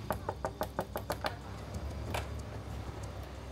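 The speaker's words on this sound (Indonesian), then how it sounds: "saya kesini tadi ketok-ketok pintu agak keras" Someone raps hard on a door in a quick, even run of about eight knocks, then gives one more knock after a pause. The knocking sounds somewhat distant against a low room hum.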